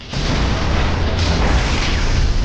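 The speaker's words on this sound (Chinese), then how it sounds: "一声爆炸后，时空监测塔也随之消失" A time monitoring tower blows up in a science fiction film with a loud, dense explosion that starts abruptly and roars steadily at full volume until the end.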